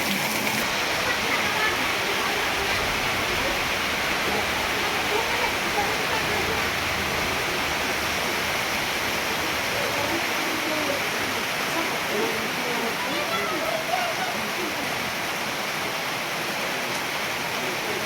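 Heavy rain pours down steadily in a dense, unbroken hiss that lasts throughout.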